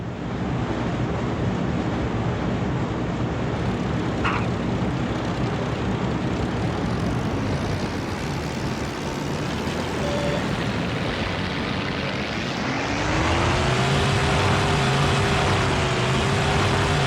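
Warplane engines in a Pacific air-combat video game drone loudly and steadily over wind-like rushing noise, a rising tone swelling near the end as the throttle is pushed up.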